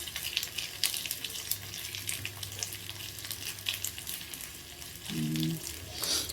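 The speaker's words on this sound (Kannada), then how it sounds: "ಅದಕ್ಕೆ ಏನು ಮಾಡೋದು, ಒಗ್ಗರಣೆಯಲ್ಲಿ ಒಂದು ಸ್ವಲ್ಪ ಫ್ರೈ ಆಗಲಿ" Spices crackle and sizzle in hot oil, a soft steady frying hiss with a few pops, and a short clink near the end.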